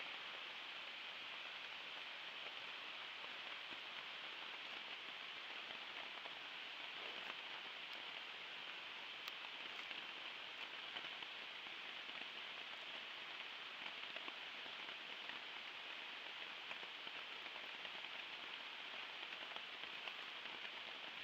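Heavy rain pounds steadily on a backpacking shelter during a solo overnight trip, a dense, even hiss of drops that holds constant and close with no voices throughout.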